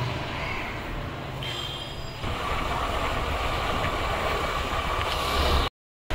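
A metro train rumbles with a continuous low roar and hiss at close range, steady for several seconds before cutting out abruptly, with no one speaking.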